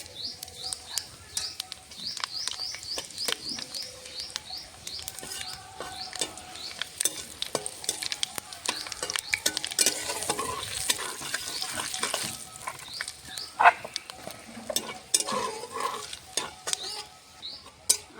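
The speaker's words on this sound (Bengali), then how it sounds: "ফোড়নে দেবো একটা শুকনো লঙ্কা হাফ হাফ করে কটা পাঁচ ফোড়ন" A dried red chili broken in halves and five-spice seeds tempering in oil in a kadai, with a light crackling fry under repeated stirring scrapes and utensil clinks, and birds chirping faintly in the background.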